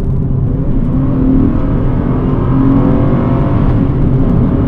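A car engine roars steadily and loudly up close, a continuous rumbling drone with a slight rise in pitch, no voices over it.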